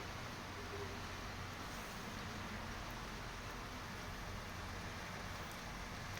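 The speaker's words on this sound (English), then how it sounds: "Even in the rain, Medjugorje is beautiful." Morning rain pattering down in Medjugorje, a soft, unbroken wash of noise that holds at the same faint level throughout, with no talking.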